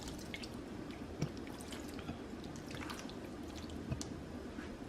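Shaken Italian dressing pours onto pasta salad in a bowl, a soft wet trickle with scattered drips and splatters, quiet and close with no talking.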